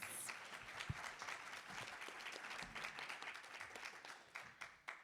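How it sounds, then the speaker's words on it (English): A crowd at a Michigan climate summit applauds its youth panelists, steady continuous clapping from many hands, fairly distant and soft, tapering slightly at the end. "So let's give a round of applause for our panelists."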